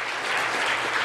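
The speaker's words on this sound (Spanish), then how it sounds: "Vamos a dar un aplauso al Señor por nuestras finanzas." Brief, dense applause from a church congregation during a Sunday service, a steady wash of many hands clapping together at moderate volume for about a second.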